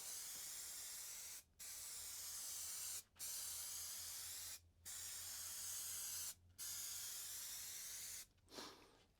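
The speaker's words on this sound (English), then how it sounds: "I'm going to use this 3M Super 77 as an adhesive." Five bursts of 3M Super 77 spray adhesive hiss from an aerosol can onto foam and fabric for a ring box, each a loud steady spray of about a second and a half, split by short pauses, with a brief rustle at the end.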